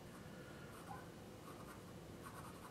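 A thick black marker scratching across paper in a steady, close and fairly quiet stream of strokes, with no talking.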